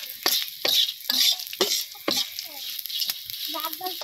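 Fish frying in a pan with dried red chillies in a Bengali home kitchen, crackling and sizzling in irregular bursts with stirring scrapes, close and moderately loud, with a faint voice near the end.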